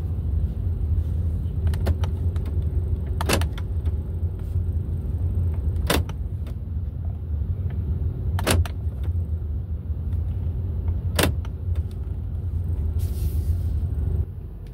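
Constant loud, low road rumble fills a moving Honda Accord's cabin, with occasional sharp clicks and knocks standing out over the steady drone.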